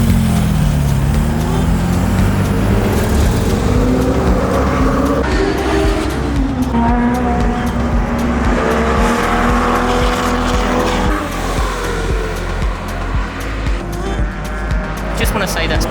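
Race car lapping Anglesey circuit on a track test day, engine revving up and down through gears loudly from inside the car, with a voice talking over it.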